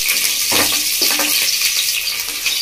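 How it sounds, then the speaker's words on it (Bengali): Chopped green chilli, ginger and garlic sizzle loudly in hot oil for a short stretch. The crackle stays constant, with two quick utensil scrapes near the start and no speech. "তেলটা গরম হয়ে গেছে, তেলের মধ্যে দিয়ে দিচ্ছি আমি কাঁচা লঙ্কা কুচি, তার সঙ্গে আদা কুচি আর রসুনের কুচি"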